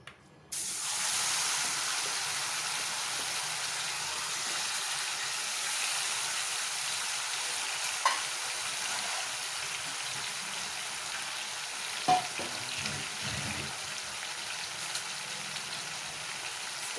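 Marinated mutton dropped into three to four tablespoons of hot oil gives a sudden, steady, spray-like sizzle that holds loud and even throughout, with a few faint clinks of a utensil and no voices.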